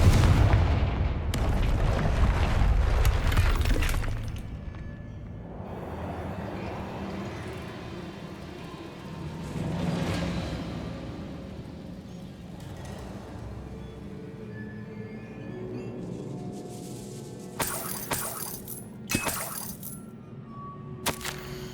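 Confringo blasting spell in Hogwarts Legacy: a loud booming explosion at the start with a rumbling decay, then quieter game ambience and a few sharp cracking bursts near the end, with no talk.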